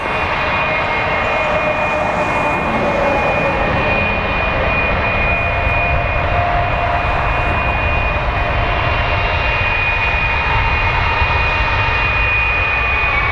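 A Boeing 777 jet at Toronto Pearson airport gives a loud, continuous engine roar with a steady high whine running through it, unbroken for over thirteen seconds with no talk.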